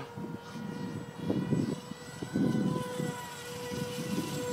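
A scratch-built ICON A5 radio-controlled model airplane flies overhead in wind, its electric motor droning steadily and swelling louder and softer as it passes, with gusts buffeting the microphone.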